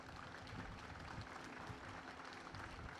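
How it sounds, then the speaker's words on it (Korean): Sustained applause from a festival opening-ceremony audience at the 2015 Hwaseong marine festival, dense steady clapping filling the whole stretch with no gaps. "큰 고마움의 박수를 좀 부탁드립니다"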